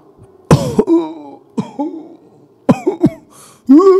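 A voice imitating harsh coughs and throat-clearing in a few loud, close bursts with short gaps between them, mimicking a person coughing inside an aircraft cabin toilet.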